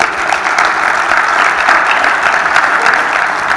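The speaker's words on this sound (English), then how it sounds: "Round of applause, please." An audience at an aviation and hospitality conference applauds a panelist as he is introduced, a dense, steady wash of clapping that stays loud and full throughout, with no voices over it.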